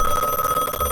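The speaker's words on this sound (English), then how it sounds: "Oh, I got a phone call." A telephone rings in a video game, a steady electronic bell tone held throughout the brief moment, fairly loud and alone with no talking.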